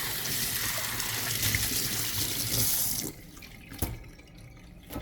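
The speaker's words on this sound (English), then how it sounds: "I'm gonna put the fresh thyme in there, but just let me give it this a wash." Tap water runs steadily as fresh thyme is rinsed in a kitchen sink, a close, full splashing flow for about three seconds before it cuts off, leaving faint drips and small clatters.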